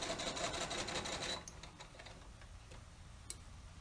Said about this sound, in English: and I'm going to start sewing again.